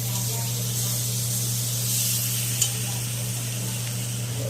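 Marinated meat for biryani sizzles in hot oil, a steady bright hiss with light stirring, sustained over a low constant hum and a brief clack midway.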